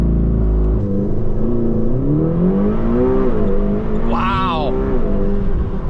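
A McLaren GTS launch-control start: a loud, steady engine roar climbs in pitch through gears with rising harmonics, continuous and close, while a voice briefly exclaims over it.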